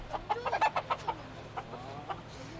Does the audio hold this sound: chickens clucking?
yes